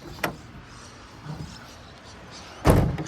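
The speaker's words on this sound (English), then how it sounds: "Shut the doors" Doors on a Toyota Prado shut with two thuds, a light one near the start and a louder, fuller slam near the end, both close by over quiet outdoor background.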